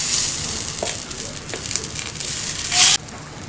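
Methi dosa batter cooking with oil on a hot pan gives a low, steady sizzle and crackle throughout, with a brief louder burst of hissing near the end.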